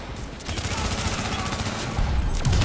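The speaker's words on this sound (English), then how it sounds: "I'm shooting the fuck out of him, and he's not registering" Sustained gunfire in The Division, rapid overlapping shots forming a dense continuous burst that grows louder toward the end, close and loud.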